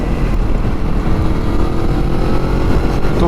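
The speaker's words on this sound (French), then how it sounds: "J'accélère à 1/6 de la poignée, je suis en 6e et ça part." Yamaha MT-10 motorcycle pulling hard in sixth gear, a loud, continuous engine roar mixed with heavy wind rush, close and steady throughout.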